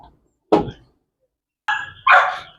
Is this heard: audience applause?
no